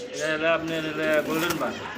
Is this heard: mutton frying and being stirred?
no